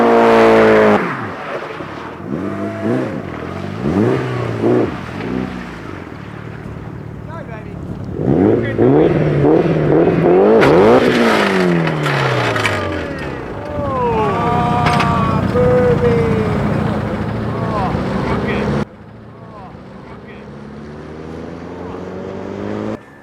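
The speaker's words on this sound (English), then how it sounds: "The owner was having a bit of trouble getting it to spin, so Paul jumped in to show him how it was really done." A Mitsubishi Evo 6 at a spin event, its engine revving hard in repeated rising and falling sweeps, loud and close, building into sustained high-rpm screaming before cutting off abruptly near the end.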